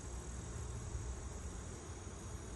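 A steady, dense buzzing hum of many bees, close and continuous, with a low droning rumble underneath and no voices.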